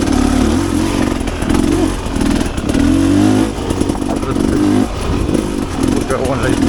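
A Rieju Ranger 300 dirt bike fitted with an FMF Gnarly exhaust revs and pulls on a trail, its loud raspy two-stroke note surging up and down in repeated bursts, with a rider talking over it.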